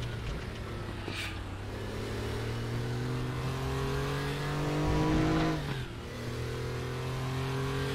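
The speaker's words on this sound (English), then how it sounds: "This car is also known as the Growler, because it does have a really nice growl." Group C race car in the RaceRoom racing game, its engine growling loudly and steadily with rising and falling revs, a brief surge near the end before settling back into a sustained drone.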